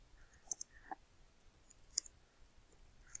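Keys clicking on a computer keyboard while typing text into a Word document, a sparse run of soft, quiet taps with no talk.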